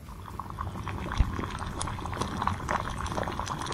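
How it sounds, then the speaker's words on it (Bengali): Chicken stew meat simmers in a covered pot after being salted, a low bubbling burble with small pops and faint clicks, steady and quiet throughout. "নুনটাকে একটু ভালো করে নেড়ে চেড়ে নিয়ে 15 থেকে 20 মিনিটের জন্য ঢাকা দিয়ে দেব মাংসটা সিদ্ধ হবার জন্য"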